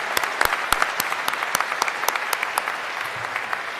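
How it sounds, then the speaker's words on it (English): Applause at a Uniformed Services University of the Health Sciences commencement ceremony, honoring the military musicians who played, with dense steady clapping from a large audience and a few sharper near claps. "Let's give our musical service members a round of applause."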